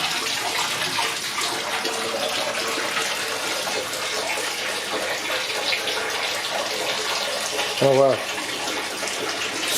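Water steadily gushes and rushes into a Fluval Vincenza 260 aquarium during filling, a constant broadband wash lasting the whole stretch, with a brief exclaiming voice near the end.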